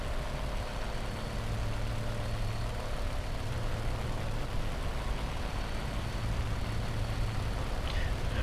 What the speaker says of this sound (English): So I'm taking off from this small airfield.